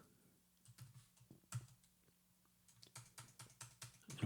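Typing on a computer keyboard while entering data into a Microsoft Excel invoice, with quiet scattered keystrokes early that build into a steadier run of clicks toward the end.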